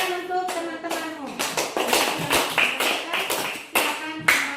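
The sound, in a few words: classroom applause, clapping hands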